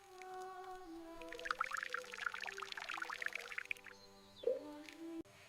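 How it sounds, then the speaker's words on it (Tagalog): Rice being washed in water for maqluba, with steady sloshing and pouring splashes that swirl continuously for several seconds, close and moderately loud, ending in a brief clatter. "Hugasan ang bigas hanggang luminaw ang tubig,"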